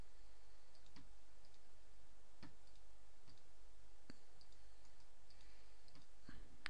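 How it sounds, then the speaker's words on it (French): Faint, sparse mouse clicks while working in Blender land singly at irregular intervals, about a dozen sharp ticks over a steady low background hum, with no speech. "On sélectionne le calque et on clique dessus."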